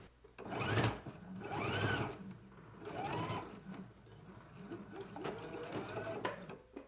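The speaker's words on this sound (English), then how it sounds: "And now we can go ahead and stitch this in place, back stitch at the beginning and at the end." A sewing machine stitches a jacket seam in short bursts, its motor whirring up and down in pitch with rapid needle clatter, including brief back-stitch passes, close and fairly quiet.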